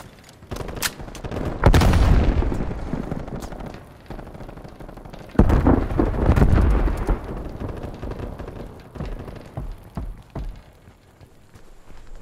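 A frag grenade goes off in Call of Duty Black Ops Cold War on the Satellite map in Dropkick mode, with two heavy booming blasts rumbling and fading between sharp distant gunfire cracks, no speech.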